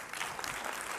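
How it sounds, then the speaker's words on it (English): A church congregation breaks into a short spell of dense clapping during a sermon, a brief, steady wash of many hands with no speech over it. "No need to clap."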